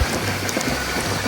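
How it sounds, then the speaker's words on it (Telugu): Rain falling steadily during a downpour in Sircilla during Vinayaka Chavithi, a dense, even hiss of drops with low rumbling underneath, close and continuous for a brief moment. "వర్షం కూడా స్టార్ట్ అయిపోయింది."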